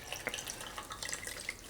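Water trickles and drips into a vase of fresh-cut flowers indoors, a faint, light splashing and gurgling with small bright droplet sounds.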